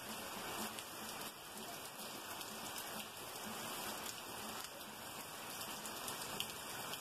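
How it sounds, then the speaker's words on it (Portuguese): Gentle, steady afternoon rain falling and pattering on surfaces outdoors, a continuous soft hiss with scattered drops throughout, even in level and close by. "É uma chuva bem tranquila, mas que molha bem."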